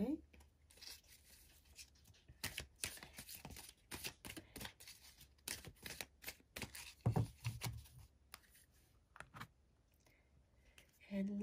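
Tarot cards are shuffled close by for a pick-a-card reading, producing irregular crisp riffling and slapping bursts with quiet gaps between them.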